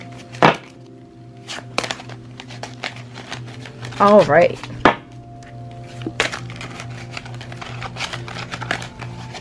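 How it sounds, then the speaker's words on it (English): Tarot cards being shuffled by hand in quick riffling bursts with sharp snaps and clacks, under a low steady hum, while a person speaks briefly. "We're going to do a little bit of shuffling the only way I know how."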